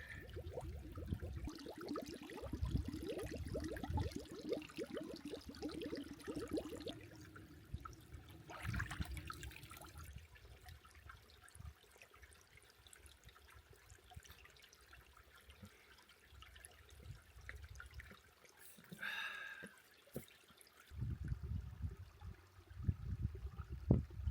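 Water bottles fill at a clear mountain stream while water gurgles and trickles steadily, with intermittent splashing bursts and handling noises at close range and no speech.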